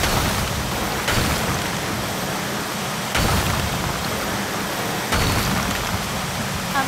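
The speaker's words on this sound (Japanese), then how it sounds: "雨足が強まってきました。" Heavy rain in the video game Synduality roars as a dense, even wash of noise, broken by a few sharp gusting surges about every two seconds, with nothing else heard over it.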